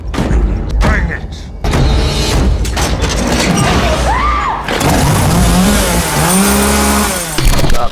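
A chainsaw revs up repeatedly in loud, rising bursts, the engine pitch climbing and falling, mixed with booming and mechanical clatter while people talk over it.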